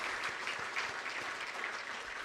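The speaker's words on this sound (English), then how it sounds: "I believe we can do another big round of applause for His Excellency the President" Sustained crowd applause at a swearing-in ceremony in Ghana, dense steady clapping from a large audience filling the whole stretch with no break.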